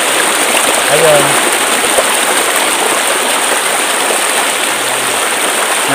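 Spring water rushes and gurgles in a constant broadband flow, close and loud, at a spring in Minalabac, with a brief low murmur of voice in the background.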